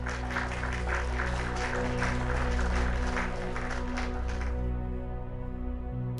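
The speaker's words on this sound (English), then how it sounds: "Here, I have some claps for you too." Recorded applause is played during a spiritual livestream, a dense continuous clapping that fills the clip at an even level before thinning out near the end.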